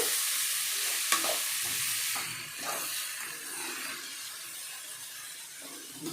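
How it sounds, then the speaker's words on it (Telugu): Boiled toor dal and ponnaganti leaves fry in a tempering pan, a continuous close sizzle and steamy hiss with occasional stirring scrapes and no voices. "కందిపప్పు, పొనుగంటి ఆకు తాళింపు అండి. ఇది కొంచెం నీరు పోయిందాక బాగా వేగాలండి."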